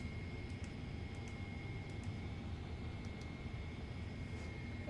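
Simulated airliner engines in Microsoft Flight Simulator 2024 roar steadily at a Heathrow runway on a takeoff roll, a continuous broadband rumble with a faint high whine, no talk over it.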